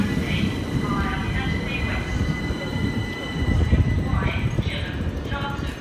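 A Class 375 electric multiple unit pulls into Ashford International station, its low rumbling rolling noise steady throughout with faint brake or wheel squeals drifting above, while an announcer's voice speaks over it.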